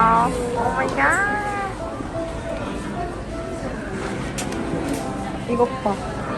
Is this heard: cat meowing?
yes